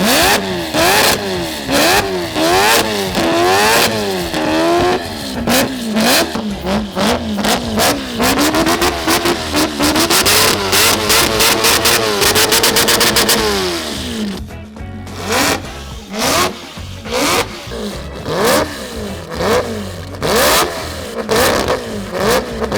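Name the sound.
four-rotor rotary engine Volvo revving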